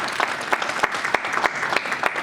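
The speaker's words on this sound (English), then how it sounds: "A big round of applause for" A seated audience breaks into brisk, dense applause, close and fairly loud, with distinct claps popping through the steady patter and no voices over it.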